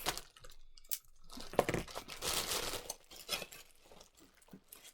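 A taped package is cut open up close: crinkling plastic, tearing tape and scraping cuts in irregular bursts, fairly quiet with no voice over it.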